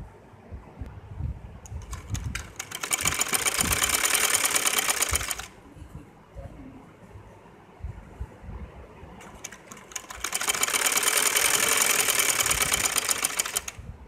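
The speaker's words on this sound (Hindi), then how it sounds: "और इसी तरह से हम दूसरे बाजू को भी सिलाई लगा लेंगे।" A sewing machine stitches the sleeve of a baby frock in two steady runs of a few seconds each, with a close rapid whirring, separated by quieter fabric handling.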